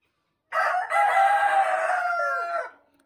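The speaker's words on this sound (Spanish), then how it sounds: "los gallos también quieren participar en el video" A rooster lets out a single loud, drawn-out crow close by, lasting about two seconds before trailing off into quiet.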